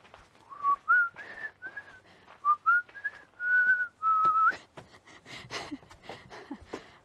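A person whistles a rising and falling siren imitation, a series of short gliding tones repeated several times, close and clear, followed by breathy noises.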